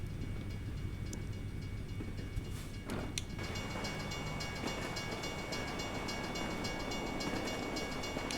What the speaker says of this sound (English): Oh, but there's a train.